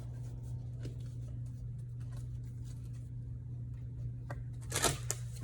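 A tarot deck is shuffled by hand during a card reading, soft papery riffles and flicks of cards over a low steady hum, ending in a brief louder burst of card snaps.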